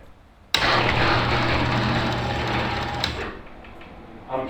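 A malfunctioning garage door opener motor runs in a steady, loud whirring drone for about two and a half seconds, then cuts off, leaving a quiet hum and a faint clunk at the end.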